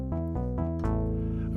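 Synthesizer tones from the ES1 virtual analog synth in Logic Pro, a few short sustained notes and then a longer held note with a rich harmonic buzz, fairly loud and played alone.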